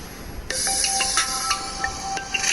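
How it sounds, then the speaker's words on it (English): A smartphone plays its ring alert through a remote find-my-device service, a steady bright tone sounding continuously for about two seconds with a few pulsing accents, fairly close and alone. "You can clearly see that sound is being played on my phone."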